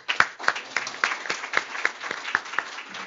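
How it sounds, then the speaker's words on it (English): Scattered, sparse clapping from a small audience at a Hispanic Heritage Month celebration, welcoming a singer-songwriter to perform: about eight distinct claps spaced through three seconds, fairly close and moderately loud, with no talking. "join me in a round of applause"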